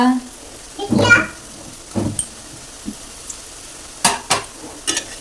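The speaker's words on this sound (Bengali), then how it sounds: "তেল তো গরম হয়ে গেছে আস্তে আস্তে দিতে থাকি এই যে দেখুন কত সুন্দর তেল গরম হয়ে গেছে সবগুলো পিঠা সুন্দর করে ভেজে নেবো" Puli pitha dumplings sliding into very hot oil, brief sizzling bursts and crackles in a sparse, irregular rhythm, with people talking intermittently.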